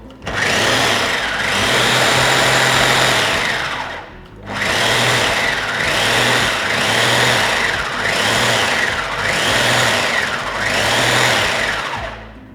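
A blender whirls sweet potato and garlic cloves for falafel. A loud, buzzing motor runs for about four seconds, drops briefly, then continues in rhythmic pulsing surges as the chunks churn, close and steady until the end.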